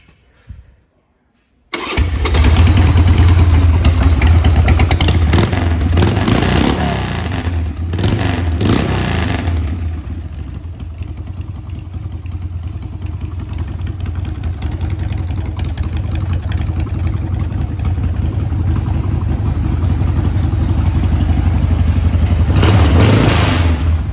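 A 1996 Harley-Davidson 883 Sportster Hugger cranks and fires after a brief silence, then settles into a loud, close, steady lumpy idle that swells slightly toward the end.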